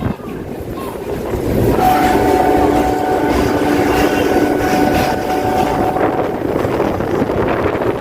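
Suburban train running from Sealdah to BBD Bag in Kolkata, a steady close rumble with faint rail squeal tones and wind buffeting the microphone, no voices.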